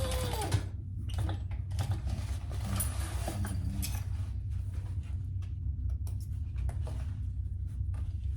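A sewing machine runs a top stitch along the side of a fabric crossbody sling bag, with a low steady motor hum and light rapid needle ticking, faint and close, no talking.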